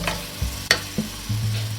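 Sliced tomatoes added to frying masala and stirred, a soft sizzle under quick scraping and clattering stirs in the pan, close by with no talking.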